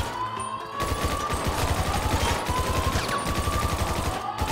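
Rifle fire in GTA V Online: rapid, steady automatic shots fired in a continuous stream, loud and close, with no talk over them.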